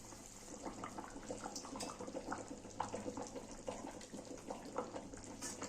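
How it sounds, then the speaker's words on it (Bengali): Boyal fish curry broth bubbles in a pan, a faint, steady, close simmer of small pops and gurgles that runs the whole time with no voices. "ঝোলটা ফুটে গেছে"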